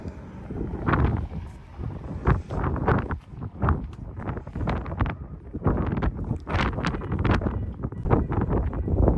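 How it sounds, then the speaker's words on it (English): Strong wind in Yuma, Arizona buffeting the microphone in rough, uneven gusts, loud and close with heavy low rumble throughout. "look at how windy it is"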